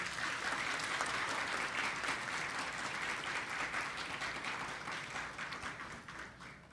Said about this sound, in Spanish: Creo que merece otro fuerte aplauso.